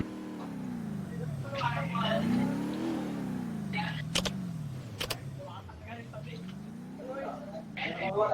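Video game car engine droning steadily with rising and falling pitch as it revs and shifts, while people chatter over it throughout.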